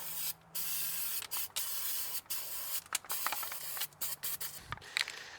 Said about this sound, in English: would not recommend the aerosol can